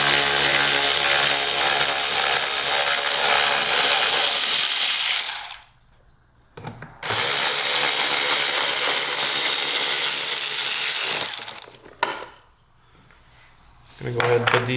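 Torx screws being removed from the hood of a 2023 Ski-Doo Backcountry X Gen 4 snowmobile with a power driver, loud sustained whirring bursts broken by brief pauses, close up.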